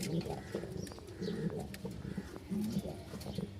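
Rajshahi Lal Sundori and Tiger Giribaj pigeons coo in repeated soft, low phrases, fairly close and quiet, with a few faint chirps mixed in.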